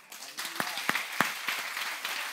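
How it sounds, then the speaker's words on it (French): Quiet, scattered applause from a church assembly, a handful of distinct, sharp claps spaced irregularly over a soft background of further hand clapping. "Si on peut les applaudir."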